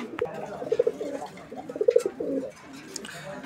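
Coloured Rajgolla pigeons coo in soft, rounded bursts at close range, two clear call groups separated by brief pauses.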